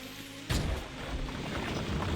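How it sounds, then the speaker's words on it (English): Steady rain in the video game Dragon Quest Builders, a broad hiss that sets in abruptly after half a second of quieter ambience and continues evenly to the end. "It's raining."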